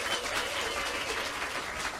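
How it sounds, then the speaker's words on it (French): Dense audience applause at a Caribbean Christmas song contest, a continuous wash of many hands clapping at even, moderate loudness with no voices cutting through. "On applaudit s'il vous plaît"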